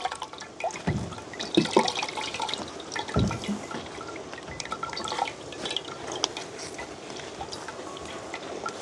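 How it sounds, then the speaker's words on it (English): Water running and splashing while a pudding pan is rinsed outdoors in the hills, an uneven stream of splashes and drips with occasional louder sloshes, heard alone without talk. "just rinse out the pudding pan so we can get it if we need the flour"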